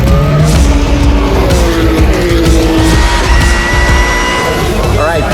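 A Porsche 992 GT3 Cup race car at Spa during a 12-hour endurance race: loud, sustained engine roar with shifting pitch and squealing tyres throughout, close to the microphone.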